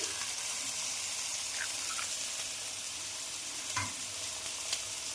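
An egg fries in a pan of spiny gourd curry masala, giving a steady close sizzle with faint stirring scrapes and no talk.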